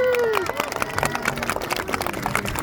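An audience at an outdoor Touch-A-Truck event at the Southfield Civic Center applauds police dog Rocco with scattered, uneven claps. A voice and a whistle-like tone sound over the clapping.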